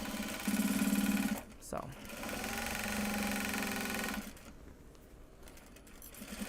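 A domestic sewing machine stitches a project bag made from Japanese fabric, whirring up close in a steady run that pauses and restarts, with a brief spoken word in between.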